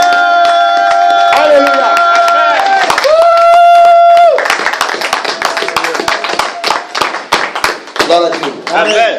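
A church congregation claps and cheers to acclaim Jesus Christ, loud rhythmic hand claps and crowd shouts following a sustained sung or shouted acclamation, with a voice speaking over the start.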